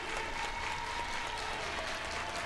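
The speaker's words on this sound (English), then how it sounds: "Crowd's into it early here in Baton Rouge." A crowd applauds at an LSU college softball game in Baton Rouge, a dense, steady wash of clapping and cheering from a stadium crowd throughout.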